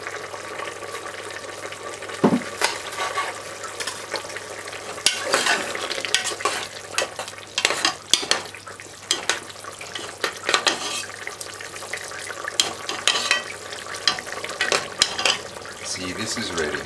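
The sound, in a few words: Jamaican peppered steak stewing in pot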